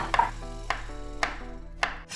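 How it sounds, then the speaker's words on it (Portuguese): Knife chopping zucchini on a cutting board, four distinct cuts spaced about half a second apart, close and clear with no talking. "Vou cortar a minha abobrinha."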